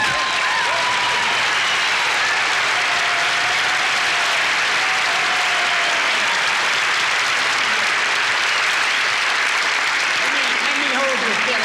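Broad, steady audience applause welcoming Senator Robert Byrd of West Virginia, sustained clapping from a large crowd at a radio broadcast event, filling the whole stretch with continuous dense noise.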